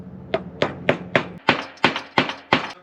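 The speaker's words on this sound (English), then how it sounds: "We use the plastic hammer." A plastic hammer taps a bearing into a housing on a workbench with eight crisp, evenly spaced knocks, close and loud. The strikes come slightly harder in the second half, with no talk.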